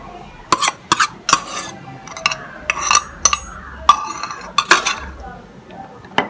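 A spoon stirs finely chopped, seedless tomato into peanut masala in a pan, with irregular close clinks, knocks and scrapes against the metal and a faint sizzle beneath.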